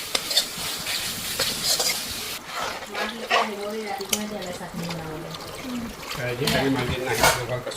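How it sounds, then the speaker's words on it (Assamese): Tomatoes and greens frying in a pan for a home-cooked meal, with continuous sizzling and stirring scrapes close up while someone talks over it. "বিলাহী আৰু ঘেৰুৱা শাক মই ভালকৈ ভাজি ল'লোঁ"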